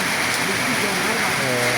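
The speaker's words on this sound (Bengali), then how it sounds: "অলরেডি বৃষ্টি শুরু হয়ে গেছে" Rain pours down on a river-island char in Bangladesh, a dense, even patter heard from under a tarpaulin-walled shelter, with voices murmuring beneath it.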